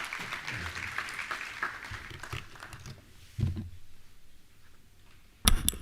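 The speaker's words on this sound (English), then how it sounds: "I ask that you give him another round of applause" Applause from a conference audience at a Caribbean Maritime University industry session after a speaker finishes, a soft, distant patter of many hands that fades out, with a few sharper knocks and bumps.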